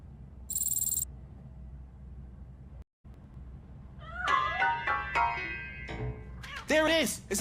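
Cat meows in the RoboCop video game, a series of clear, rising and falling cries in the second half. They come fairly close over a steady low game ambience, with a brief electronic tone near the start and a short dropout in the middle.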